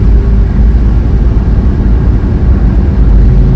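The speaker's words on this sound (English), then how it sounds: "Almost to the spot where I'm going to set the camera on the road and do a little drive-by." A 1967 Dodge Coronet, back on the road after 30 years, rumbles past a roadside spot with a deep, steady low engine drone, loud and close throughout.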